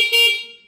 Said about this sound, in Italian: clacson